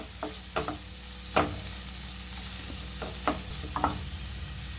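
Ingredients for an egg breakfast recipe sautéing in a pan, giving a constant sizzle broken by several clattering stirring knocks at irregular intervals, with no voices.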